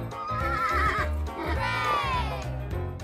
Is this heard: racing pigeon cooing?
no